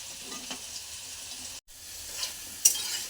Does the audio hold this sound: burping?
no